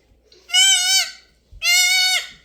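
A newborn Nigerian Dwarf baby goat bleats twice, loud and very close. Each cry is long and shrill, and a short pause separates the two.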